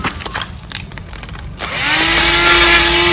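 A battery-powered grass cutting machine on its first use starts up and runs at high speed, a steady loud whine with a rising motor tone that settles into a continuous buzz cutting grass, alone without talk.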